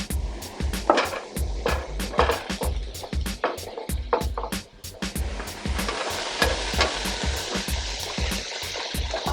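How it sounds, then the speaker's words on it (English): Mushrooms frying in olive oil in a pan, a busy sizzle with repeated clattering knocks and stirring scrapes at close range, continuing steadily throughout. "we're going to go in with our mushrooms next"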